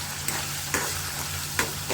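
Food deep-frying in plenty of hot oil gives a loud, continuous close sizzle and crackle, with a few brief sharp pops or utensil scrapes cutting through and no voices.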